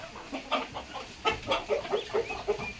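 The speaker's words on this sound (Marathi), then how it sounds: "बघा ही चॉकलेटी कोंबडी आहे" A brown country hen sitting on eggs in a village poultry setting clucks in a rapid run of short, close, moderately loud calls with no talking.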